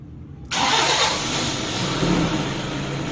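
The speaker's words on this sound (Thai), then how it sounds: "สตาร์ทรถครับ" A Toyota Vigo pickup's engine cranks and catches after a moment of quiet, then settles into a steady, close, mid-pitched running rumble.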